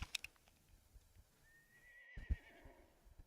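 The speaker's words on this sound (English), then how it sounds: "Oh, I definitely heard a horse." Horse in the video game SCUM giving a clear whinny in the middle, preceded and followed by a few sharp hoof clops, fairly faint and without talking.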